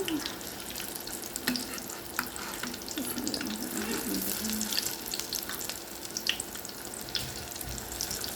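Kebabs fry in hot oil with a steady bubbling hiss, joined by faint clinks and scrapes from the pan at close range, fairly quiet throughout.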